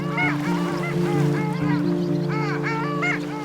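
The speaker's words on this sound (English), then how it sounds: "Long-tailed ducks are sea ducks, but they've come inland to pair up before flying to the Arctic Circle" Several long-tailed ducks calling in repeated yodelling, rising and falling notes over a steady low hum on a freshwater loch, overlapping one another at moderate distance.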